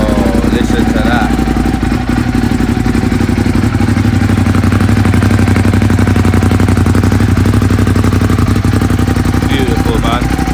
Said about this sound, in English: we're going to fire her up, see how she's sounding on the stock exhaust